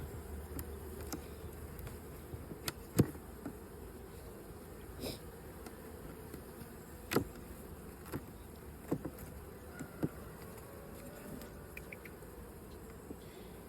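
Honeybees buzz around a hive being prepared for winter, a continuous close hum with a few sharper passes of individual bees near the ear and no talking.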